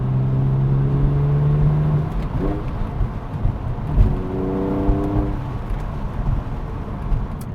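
Porsche 911 engine and exhaust heard from inside the cabin through a slightly cracked window, a steady drone that dips and then rises again as the revs climb, carrying continuously with no talking.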